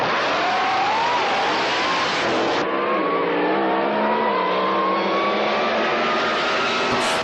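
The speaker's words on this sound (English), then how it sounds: "Their race cars are immaculate, supercharged, alcohol-burning sedans" Supercharged alcohol-burning race car sedans, including 55 Chevrolets, Commodores and Falcons, roaring at high speed, with a loud continuous engine howl whose pitch rises and shifts as the cars pass close by.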